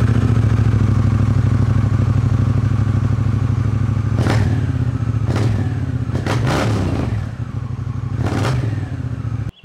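A Honda Rebel 1100 motorcycle with an aftermarket touring-model exhaust idling with a deep, loud rumble, blipped several times into sharp revs before settling back, close by with no talking.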